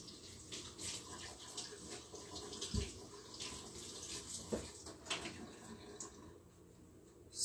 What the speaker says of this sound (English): So I'll go ahead and rinse those ones.